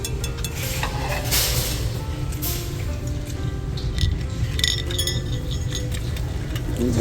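Glass items clink and rattle in scattered light bursts while someone browses holiday decorations in a shop, set against music and a low background hum.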